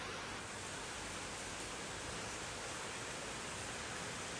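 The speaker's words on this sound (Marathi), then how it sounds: "पाऊस खूपच आहे" Heavy monsoon rain in Konkan, a dense, even hiss of steady downpour with no other sounds standing out.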